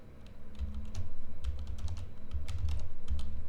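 Numbers are typed on a computer keyboard in quick, uneven flurries of key clicks, close by and moderately loud, with no voice over them.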